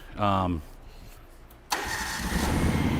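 A skid steer engine cranks and fires after a short pause, then settles into a loud, steady run with a little throttle, heard close by after a brief tone at the start.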